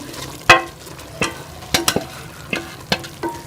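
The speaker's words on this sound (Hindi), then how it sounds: "और चावलों को अच्छी तरह से पूरी के अंदर मिक्स कर लेंगे" A spoon scrapes and stirs rice into melted sugar in a pot for mango zarda, producing sharp intermittent clinks and scrapes against the metal over a faint steady sizzle.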